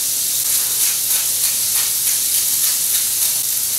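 Chicken seasoned with garlic salt and black pepper sizzles steadily in a hot skillet, a loud, continuous frying hiss with faint pulsing and no talk over it.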